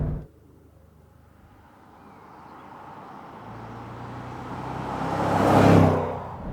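A Jaguar F-Pace SVR with its 5-litre petrol engine approaches from a quiet distance, its drone swelling steadily to a loud close pass before easing off, with no talking.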